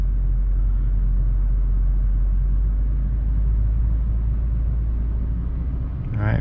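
Car engine idling steadily in neutral, held at roughly 2,000 RPM, a constant low rumble filling the whole stretch with a brief rise in pitch near the end.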